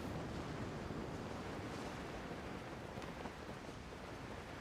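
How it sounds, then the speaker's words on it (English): Calm ocean waves in a video game wash in a steady, soft surf roar with a slight windy hiss that holds evenly throughout, with no voices. "Waves are as calm as always."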